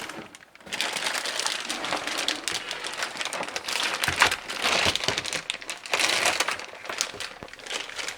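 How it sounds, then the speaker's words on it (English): Plastic bag being pulled off a Jupiter Neptune (Mavello JP-101) water ionizer during unboxing, a steady stream of close crinkling and rustling that swells and eases for several seconds. "And we'll remove the plastic bag."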